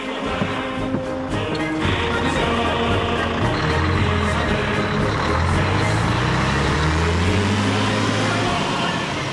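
A state bus running through a village, a steady engine drone with rising and falling gear tones and road rumble, fairly close, with a voice speaking over it.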